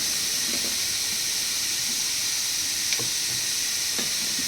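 Fish egg curry with mango simmers in a pan, giving a steady, soft hiss of bubbling liquid with a couple of faint clinks, and no voices.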